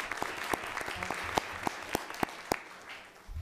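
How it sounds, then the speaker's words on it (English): Scattered, sparse clapping from a small audience at a Hampton City Schools board meeting, a dozen or so distinct claps at moderate distance that thin out toward the end. "Let's give them another round of applause."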